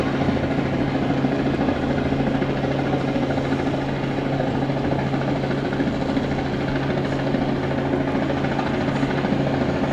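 Unlimited hydroplane race boats speeding past at the Detroit Gold Cup make a loud, continuous engine roar and whine that holds steady, with no talking over it.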